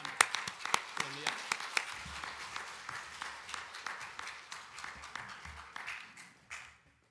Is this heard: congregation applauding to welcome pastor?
yes